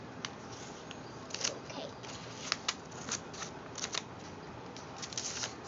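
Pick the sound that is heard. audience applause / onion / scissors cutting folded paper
scissors cutting folded paper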